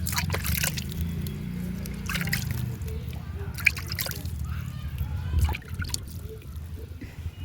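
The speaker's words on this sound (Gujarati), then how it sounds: "હું થોડા ઝાડવા છે એ બધા પાણી પાઈ દઉં અગાસી ઉપર આપણે" Potted plants on a house rooftop being watered, with soft trickling, pouring and splashing of water close by and a low background hum and intermittent knocks.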